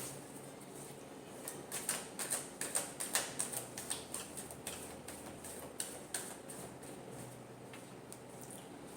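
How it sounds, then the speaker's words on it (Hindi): Tarot cards are shuffled close by, a run of quiet, crisp ticking riffles in a quick rhythmic burst, then a few scattered flicks, with no talking. "एक शफल और करेंगे।"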